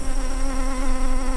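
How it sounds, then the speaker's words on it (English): Bees buzz around a line of 60 hives holding over two million bees, a dense, loud, continuous hum close by with a steady droning pitch and no voices. "That's a line of 60 hives and well over 2 million bees."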